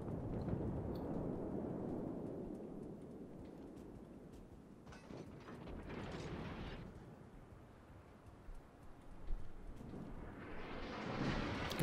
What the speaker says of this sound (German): Da waren die HE-Granaten unterwegs